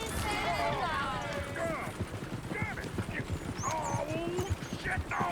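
Several horses gallop and whinny in Red Dead Redemption 2, a dense run of hoofbeats with repeated high neighs cutting through, loud and close throughout the clip.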